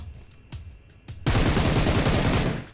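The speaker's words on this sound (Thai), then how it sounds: "ฝั่งเนี้ยมันยิงผมมา" Automatic gunfire in PUBG Mobile: a few isolated shots, then a loud, rapid continuous burst of closely spaced rounds that keeps going to the end.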